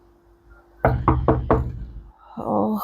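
Four firm knocks strike a home door in quick succession, loud and close, followed by a short murmur of voices.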